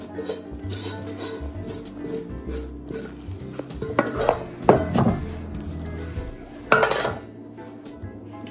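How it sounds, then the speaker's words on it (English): Bread dough for white bread being scraped out of a mixing bowl: close, irregular scraping and clinking of a utensil against the bowl, with a few sharper knocks near the end. "Let's scrape this bowl so that we have all of our good bits."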